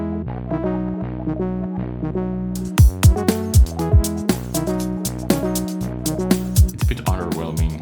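Layered synth parts play dry without the Orbit modulation effect, a sustained chordal tone with sharp percussive hits entering partway through, loud and steady with no talking.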